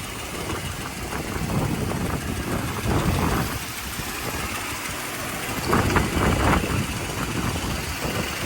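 A 1985 Mercedes 500SEC V8, a Euro-spec grey-market car, idles with shaking and rattling, a rough, uneven rumble with recurring surges and knocking textures, heard close and alone.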